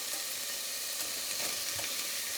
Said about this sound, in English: The cut tomatoes and stir fry till the tomatoes soften a bit